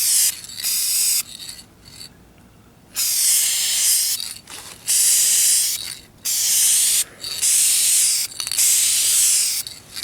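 Duplicolor Perfect Match spray paint hisses from an aerosol can onto the rear bumper of a 2004 Kia Spectra, laid down in a series of steady bursts of a few seconds each with short pauses between, close and fairly loud.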